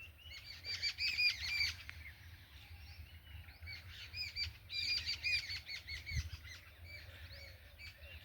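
Sparrows chirping in a busy chorus in a forest, quick overlapping tweets coming in bursts at moderate distance over a low background rumble.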